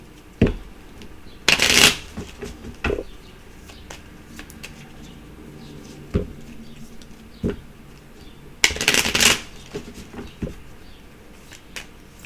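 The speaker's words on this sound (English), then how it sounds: "Let's give this a good shuffle here." Two loud bursts of playing cards being riffle-shuffled, with quieter card taps and handling noises in between, close up with no talking.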